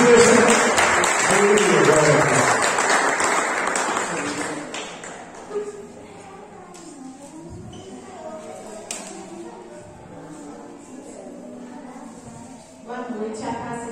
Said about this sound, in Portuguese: Receba a serva de Deus com as palmas bem abertas